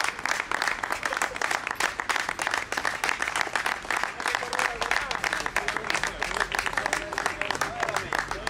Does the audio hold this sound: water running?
no